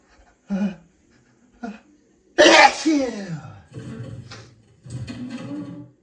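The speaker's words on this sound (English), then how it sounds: "let out a big, wet, misty sneeze" Two short breathy intakes build up to a loud, explosive sneeze, followed by trailing sniffles and breathing up close.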